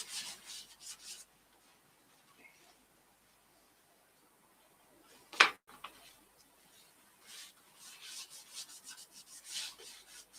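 Yorkshire Grit abrasive paste rubbed onto a turned silver birch bowl, a soft, faint scratchy rubbing that comes and goes, with one sharp brief knock midway.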